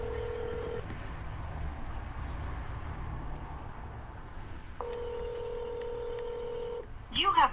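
Telephone keypad tones dial out to place a cold call: steady single tones sound near the start and again later, over faint line hiss, followed by short bright chirps at the end.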